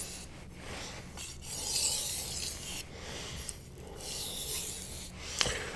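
A knife is drawn in edge-leading strokes across a Japanese 1000-grit whetstone: repeated rasping, scraping passes in an uneven rhythm, with short pauses and a couple of sharper clicks, close and fairly loud with no voices.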